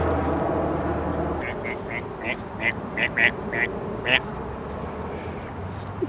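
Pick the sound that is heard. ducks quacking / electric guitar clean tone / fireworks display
ducks quacking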